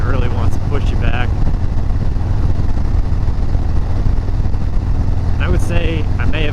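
Motorcycle fitted with a Fuel Moto 124 big bore kit and S&S 475 cam, accelerating on a scenic ride: a loud, continuous engine roar with wind, and brief voice fragments at the start and end.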